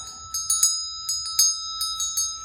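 A small ritual altar bell is rung repeatedly in quick shakes, bright sustained metallic tones struck in clusters of close jangling hits, near and clear with no talking.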